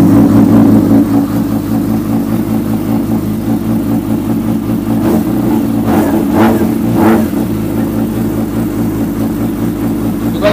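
A big motorcycle engine running loud and close, holding a steady throaty idle before a few quick revs rise and fall midway, then settling back to a rumbling idle.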